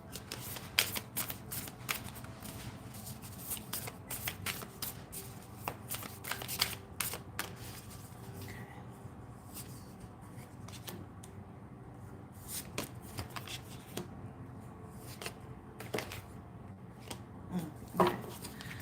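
Tarot cards being shuffled for a reading, a soft continuous riffling and slapping of cards with brief taps, close and quiet, with no talking over it.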